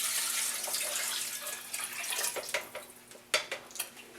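Water poured into a pot of chicken stock while making Southern chicken and dumplings, a soft splashing pour with a few clinks and sloshes near the end, close by and alone.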